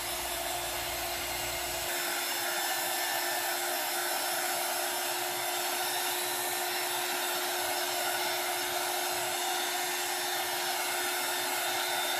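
A hair dryer blows hot air over a craft project during drying, a steady unbroken whoosh that stays loud and even throughout, with no talking.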